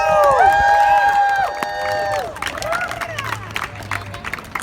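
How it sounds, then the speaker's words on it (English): A crowd gathered outdoors at a protest rally at the Edmonton Legislature breaks into applause and cheering, loud and close at first with whistle-like tones, then thinning into scattered claps. "So let's get a round of applause for everybody here today."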